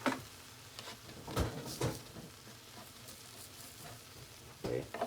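Bread toasting in a frying pan gives a low, steady sizzle, with a few sharper clatters and scrapes from flipping the slices.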